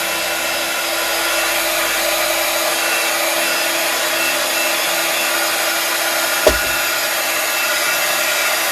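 A hair dryer runs continuously at close range to dry gesso on an altered glass jar, a loud steady whir with one brief knock partway through.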